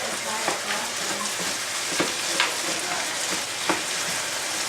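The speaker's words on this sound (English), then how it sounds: "they're really starting to sizzle." Cashews sizzle steadily in a hot frying pan, a continuous crackling hiss with occasional sharper pops.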